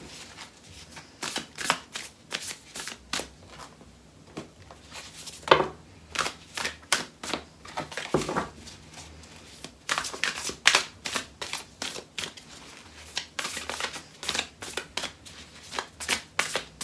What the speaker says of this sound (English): we're going to pull a couple cards from the Starseed decks